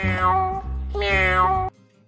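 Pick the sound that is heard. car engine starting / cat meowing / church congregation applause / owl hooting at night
cat meowing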